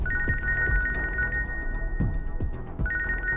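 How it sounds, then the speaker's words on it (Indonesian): A telephone rings in a quiet indoor room, repeating electronic trills in a steady pattern that pause briefly and resume, with soft low thumps underneath and no talking. "Aku harus angkat telepon bentar."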